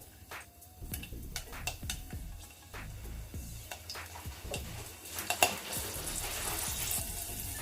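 Mustard seeds and cumin sizzling in hot oil for mamidikaya pappu make a steady crackle with many small, quick popping spatters. Faint stirring and pan clinks sit under the sizzle, which gets slightly more intense toward the end.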